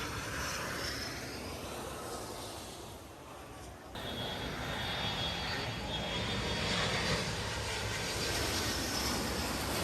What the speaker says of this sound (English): This beach in front of the airport, where landing planes fly over very low